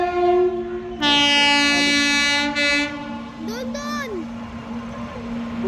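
A loud train horn blares twice amid the steady rumble of a passing freight train, with a brief voice and whistle-like tones over the noise.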